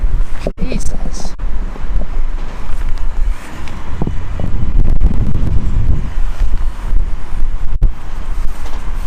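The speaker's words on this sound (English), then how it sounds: "Fuck off, wind." Strong outdoor wind in France battering a handheld microphone, a loud, rumbling low roar with gusty surges and sharp bumps throughout, alone with no clear talk.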